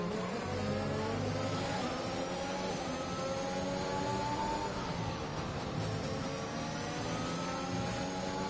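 A continuous, loud onboard F4 race car engine in a racing video game set in Mexico, holding a high steady drone with shifting pitch, no voices over it.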